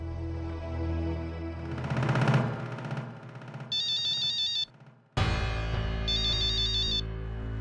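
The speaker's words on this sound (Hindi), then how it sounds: "मानव बाबा का फोन" An electronic phone ringtone plays in two repeating bursts with a brief gap, a melodic warbling tone over music and background noise.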